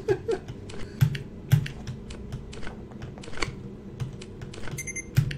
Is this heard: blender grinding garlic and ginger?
no